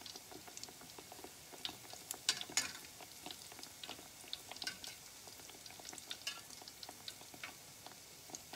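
Batter for petulla fries in a pan over a moderate flame, giving a faint, steady crackle and sizzle with soft scattered pops and no voices.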